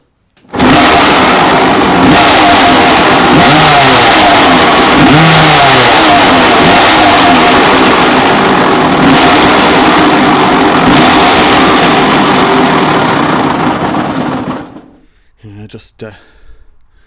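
A 1987 Yamaha YZ125 two-stroke dirt bike with a missing choke plunger runs loud and close, revving repeatedly for about fourteen seconds before cutting out; a few brief clatters follow in the quiet.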